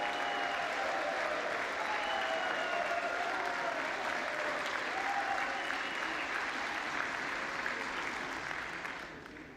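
Applause rises in the House chamber during the vote for Speaker, a faint but continuous patter of many hands clapping, fading slightly at the close.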